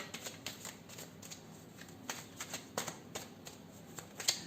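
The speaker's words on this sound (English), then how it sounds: "This is a small deck and it's easy to shuffle" Small Sun and Moon Tarot deck being shuffled by hand, a series of soft papery riffles and flicks in an irregular rhythm, close and fairly quiet with no talking.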